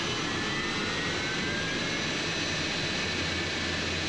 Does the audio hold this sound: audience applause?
no